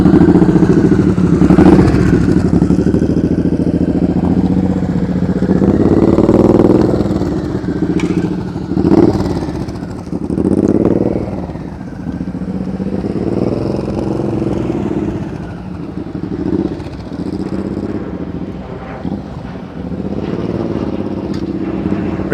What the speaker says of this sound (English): it's a very, very sensitive throttle.